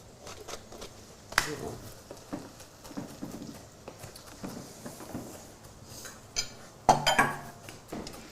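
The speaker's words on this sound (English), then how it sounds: "Speed chopping." Knife speed-chopping food on a board in a kitchen, a run of rapid, uneven taps and clatters, close, with some faint voices underneath.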